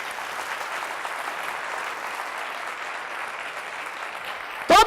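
Applause from a church audience during a sermon, steady sustained clapping at moderate distance for several seconds, ending with a brief loud bump.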